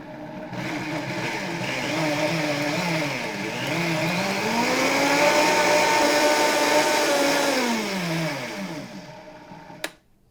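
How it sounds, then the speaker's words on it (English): A blender whirs loudly and steadily for about ten seconds, mixing granola ingredients with cinnamon. The pitch dips and rises as the contents churn, then the motor cuts off abruptly. "Now everything is in the blender and we're going to blenderize."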